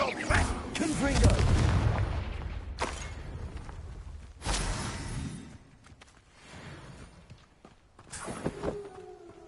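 Several heavy explosive blasts from the Confringo spell in Hogwarts Legacy boom out at intervals of a few seconds, each one a loud burst that quickly decays.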